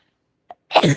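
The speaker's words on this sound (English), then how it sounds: "I've got to sneeze." A single sharp sneeze with a brief intake of breath just before it, close and clear against silence.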